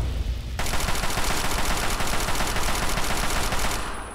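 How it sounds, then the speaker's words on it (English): Sustained automatic gunfire in the video game Fallout 3 bursts in loud and dense, rattling nonstop for about three seconds before easing off, with no talking over it. "Oh, is that Sharon I was shooting?"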